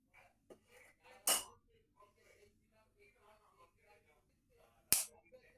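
Almonds dry roasting on a hot tawa give two sharp, loud crackling pops a few seconds apart over a soft, quiet background.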